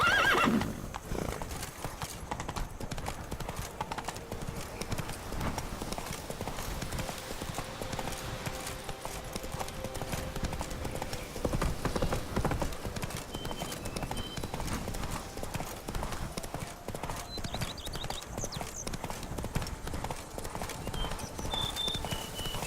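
Horse hooves clip-clop steadily through the whole stretch, with a horse neighing and whinnying now and then, in an outdoor setting.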